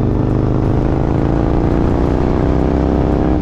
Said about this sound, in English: the engine lets you know it's there